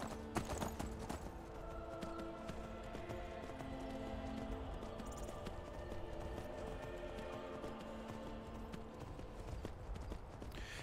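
Hooves clip-clop steadily at a gallop, mid-distance, from a horse in the video game Skyrim, over a dense bed of background sound and music-like tones, with no voices.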